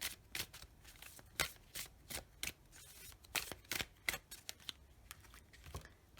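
Tarot cards are shuffled and drawn close by at a table, a quiet series of crisp riffling flicks and snaps arriving in irregular bursts.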